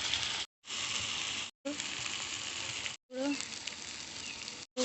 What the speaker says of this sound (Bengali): মশলাটা কষিয়ে নেব ভালো করে।